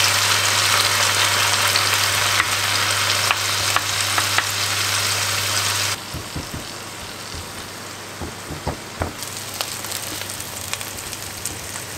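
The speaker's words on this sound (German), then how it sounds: "So, jetzt wird gebraten." Zucchini and other vegetables frying in a pan, a steady dense sizzle with occasional crackles and pops, running continuously throughout.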